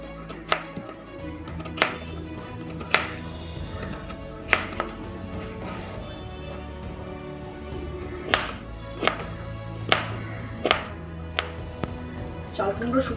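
A knife chops peeled ash gourd on a board in a home kitchen while making sukto, giving about a dozen sharp, close knocks at an uneven pace over a low background hum.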